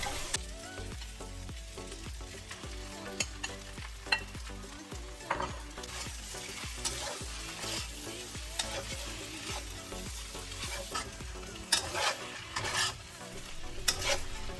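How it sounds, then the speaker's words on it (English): Beef, flat rice noodles and vegetables are stir-fried in a hot wok for beef chow fun, with a steady sizzle and repeated scraping, clanking tosses of a spatula against the metal. "Mix everything together and add the steak back to the wok."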